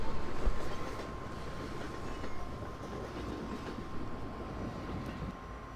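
A train rumbles past with a steady clatter of wagons on rails in the video game Half-Life 2, a loud continuous rolling roar with a faint high tone running through it, no voices.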